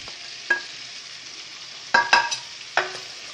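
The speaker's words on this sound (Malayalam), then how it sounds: "എല്ലാം കൂടി നന്നായി മിക്സ് ചെയ്യാം" A spoon stirs biryani masala with coriander and mint leaves in a pan, giving a few spaced scrapes and clinks. A soft, steady sizzle runs underneath, and no one speaks.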